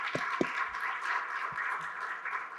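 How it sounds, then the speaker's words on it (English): Audience applause for the panelists at a session on measurement and learning in financial inclusion, a steady hall-filling patter of many hands, moderately distant, with a few low thumps early on. "Could we give them a round of applause"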